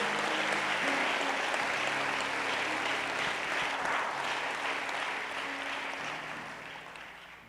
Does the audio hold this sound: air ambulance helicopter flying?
no